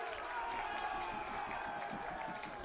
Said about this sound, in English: It's more than a clap, in fact. He gets a standing ovation.